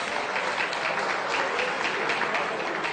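A crowd gives a round of applause at a music awards nominees announcement, sustained even clapping that fills the room without pause.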